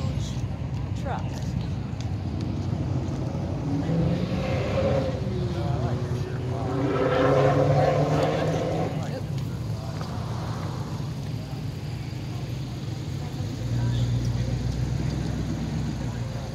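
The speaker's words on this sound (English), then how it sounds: "look at that huge truck right there" A huge truck rumbles past on a street with steady low engine noise building and fading, while people talk nearby over the traffic.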